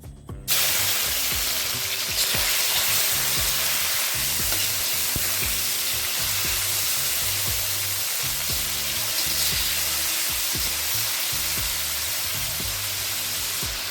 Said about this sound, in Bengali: এই একই কড়াইতে আবার দিয়ে দেবো খানিকটা সাদা তেল এবার আমি চিকেনটা ম্যারিনেট করা চিকেনটা ভেজে নেব